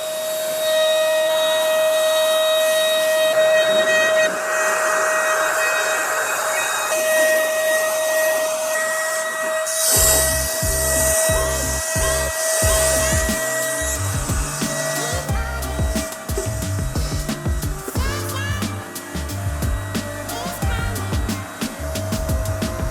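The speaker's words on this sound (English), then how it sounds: "I like a paint sprayer." A paint sprayer hisses steadily with a droning motor tone throughout. Partway through it turns rougher and more broken, with irregular low thumps and sputters under the spray.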